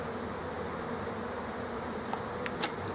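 Honey bees buzz around an open hive during a brood build-up, a dense continuous hum at moderate level with a few individual bees passing closer near the end.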